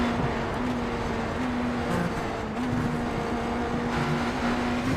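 Onboard engine sound of a GT3 race car in iRacing at Daytona, heard under heavy braking into the bus stop chicane: a steady droning engine tone with slight pitch shifts, loud and continuous without speech.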